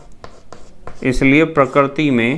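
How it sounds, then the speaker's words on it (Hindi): A teacher writes on a board during a chemistry lesson, a few short scratchy strokes at first, then someone speaks over it. "तो मैं यहाँ लिखता हूँ"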